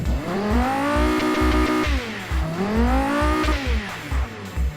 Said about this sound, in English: let's give our brand spanking new engine a bit of a listen